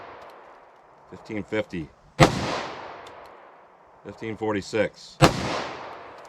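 Two sharp, loud gunshots from a .357 SIG M&P pistol, about three seconds apart, each ringing out with a decaying echo; a voice reads out numbers just before each shot.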